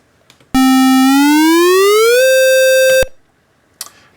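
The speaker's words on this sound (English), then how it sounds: "now the portamento is patched into the square wave" A square-wave tone from the maxYMiser tracker holds a pitch, then glides smoothly upward with portamento and settles on a higher note, loud and buzzy, stopping abruptly after about two and a half seconds.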